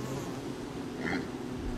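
Bees buzz around bee boxes in the video game Don't Starve, a steady, close insect drone with a brief higher whine in the middle and no talking.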